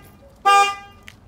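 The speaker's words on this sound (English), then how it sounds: "Horn works. Horn works." A single loud, short blast from the horn of a classic American V8 car, bright and steady for about a third of a second, followed by a faint click.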